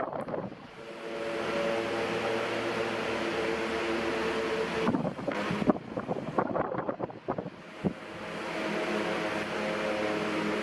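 High-speed table fan running steadily with a broad whooshing airflow and a low motor hum, close to the microphone, interrupted midway by a few seconds of handling knocks and rustles.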